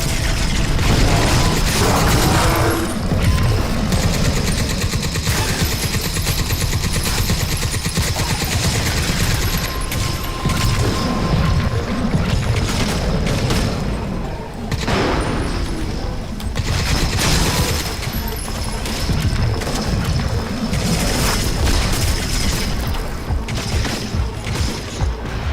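Crysis 3 gunfire rattles in dense, continuous automatic bursts with heavy recoil, loud and close, layered over mechanical clanks and game effects.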